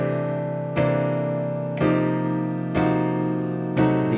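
Four piano chords struck one per second at an even 60 BPM pulse, each ringing and sustaining into the next, played alone.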